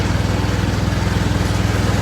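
A lawn mower engine runs steadily while mowing, a loud, close, continuous low drone with a fast pulsing throb and no talk.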